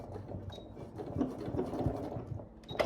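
A sewing machine runs to the end of a seam on a fabric mug rug, then takes a couple of short back stitches, its low motor whir and rapid needle chatter steady and close with slight pauses.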